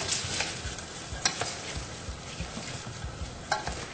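Butter sautéing in a pan for chicken fricassee as a utensil stirs it, a steady sizzle broken by scraping strokes and a few sharper clacks against the pan, close and fairly loud.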